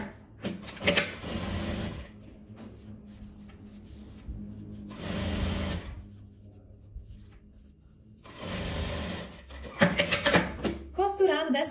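Sewing machine topstitching a folded seam on lined fabric for a quick beginner project, running in three steady whirring bursts separated by pauses, with soft handling noises of the cloth in between.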